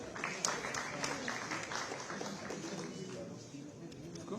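Applause from the audience at a government appointment-letter ceremony, steady dense clapping throughout under a background announcer's voice.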